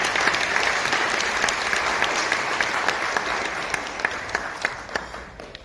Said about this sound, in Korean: 우리 정세현 장관님께 다시 한번 큰 박수 부탁드립니다.